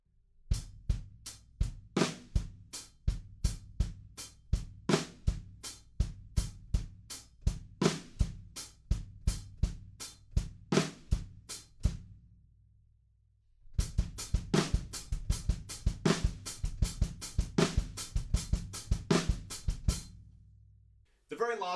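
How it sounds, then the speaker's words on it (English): A drum kit plays a halftime groove with flammed snare hits on beat three, steady close strikes and cymbal wash, pausing briefly and then resuming busier; a voice speaks faintly underneath in places. "we're just going to add some flams on beat 3 on the snare drum"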